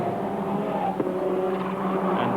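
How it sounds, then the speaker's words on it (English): A touring car races at Silverstone during the 1989 British Touring Car Championship, its engine droning steadily as the driver shifts down through the gearbox, a continuous loud mechanical hum with slight pitch changes. "Now Beckett's down through the gearbox."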